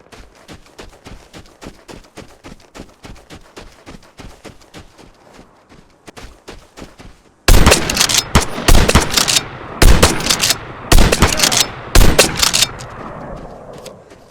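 Shotgun gunfire in the video game Vigor: loud close blasts in quick bursts break out after a stretch of quiet rhythmic footsteps, with pauses between volleys.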